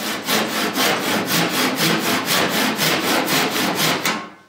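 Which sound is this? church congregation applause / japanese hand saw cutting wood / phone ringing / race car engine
japanese hand saw cutting wood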